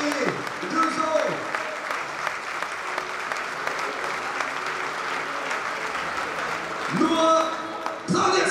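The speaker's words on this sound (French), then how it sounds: "on applaudit très fort la jeunesse bayonnaise" Stadium crowd of supporters applauding Aviron Bayonnais' young rugby players at a 2025/26 squad presentation, with steady loud clapping and cheering throughout and an announcer's amplified voice at the start and end.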